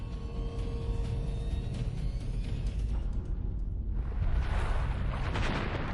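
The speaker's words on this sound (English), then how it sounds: "The result is a catastrophic explosion that tears the ship apart." A battleship's ammunition stores detonate during the attack on Pearl Harbor, heard as a heavy, continuous rumbling roar that swells into a brighter, fuller blast partway through, with no voices.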